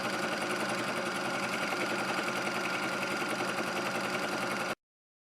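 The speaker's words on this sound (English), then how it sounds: "I'm just going to do a straight stitch down this to join these 2 halves" A sewing machine runs a straight stitch along fabric joining two halves of a sofa slipcover ruffle, a steady, rapid mechanical chatter at close range for several seconds before stopping abruptly, with no talking.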